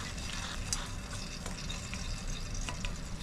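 Tilapia frying in a pan of hot oil, a steady close crackle and sizzle with small pops, continuous and moderately loud throughout.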